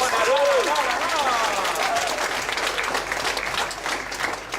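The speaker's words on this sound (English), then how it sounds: "Can we give a round of applause for our judges?" Audience applause greets the judges at a poetry slam during the Ubud Writers & Readers Festival. Dense, steady clapping from a crowd fills the space and gradually thins toward the end.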